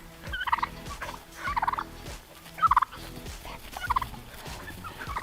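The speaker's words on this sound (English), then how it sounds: "So all the birds are now out and about, roaming the property again, very happy." Turkeys gobble in repeated bursts among other farm birds roaming a property outdoors, moderately distant over a steady background hum.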